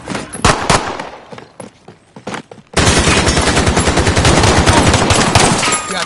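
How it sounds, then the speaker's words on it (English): Gunfire in the video game Call of Duty Warzone, first a few scattered single shots, then a loud sustained burst of rapid automatic fire continuing to the end. "Receiving hostile fire!"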